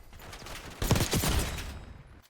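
Rapid bursts of gunfire from a Call of Duty match on the Nuketown map, a dense volley of shots in the middle of the clip standing out over the low background.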